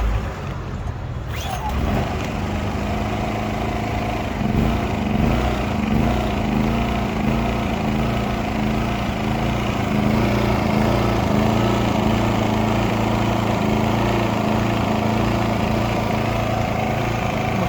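A small Lifan KP2800I-2 inverter generator engine cranks and catches, then settles into a steady, fairly quiet running hum that continues to the end.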